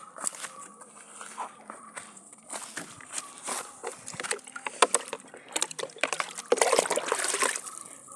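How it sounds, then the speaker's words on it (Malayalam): Water splashes and trickles onto garden plants on a hot day in a Kerala farm plot. The pouring is uneven and close by, with scattered dribbles and splatters that build to a denser wash near the end. "നമുക്ക് ചെടിക്കൊക്കെ വെള്ളം ഒഴിക്കാൻ മുളവാണ്."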